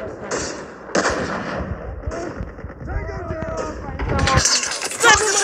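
Gunfire from the video game Call of Duty comes as sharp bursts and single shots mixed with game effects and a voice talking over the action, growing louder and denser toward the end.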